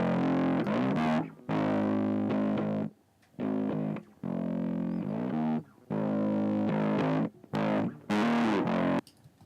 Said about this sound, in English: you'll hear that the drive here is a really important setting if I play with this